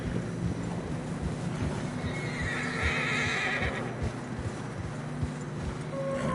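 Horses whinny over a steady clip-clop of hooves through fresh snow in the video game Red Dead Redemption 2, rhythmic and close, against a dense rumbling backdrop.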